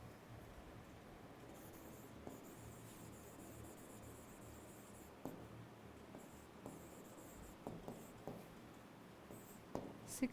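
Pen scratching across paper or a board during a biology lesson on breathing, a faint steady scraping with soft irregular strokes and taps, no voice over it.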